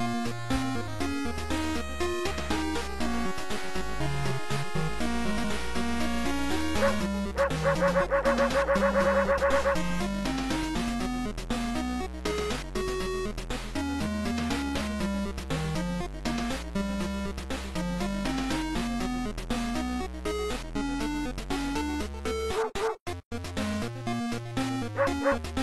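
A dog shopkeeper in a video game gives short barks over dense, continuous game music that runs loud from start to finish.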